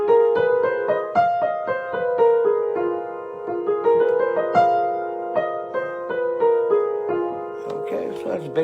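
Blues scale played on a keyboard, a run of clear sustained notes with steady rhythm, moving up and down across the octave, solo and fairly loud with no talking.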